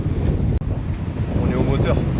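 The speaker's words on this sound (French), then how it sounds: "une vingtaine de nœuds de vent dans le nez" About twenty knots of headwind strikes a sailboat under motor, a constant roaring wind buffeting the microphone with a brief dropout and faint voices in the background.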